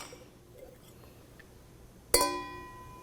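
A single bright glass clink from wine glasses touched together in a toast, ringing out with a lingering shimmer after quiet room tone.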